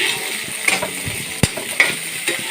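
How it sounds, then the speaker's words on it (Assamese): Chickpeas fried with onions in a home kitchen pan, without other spices: a steady low sizzle with a few sharp scraping stirs and clicks from the spatula at irregular intervals. "এতিয়া বুটখিনি পিঁয়াজৰ সৈতে ভাজিব লাগিব অকণমান।"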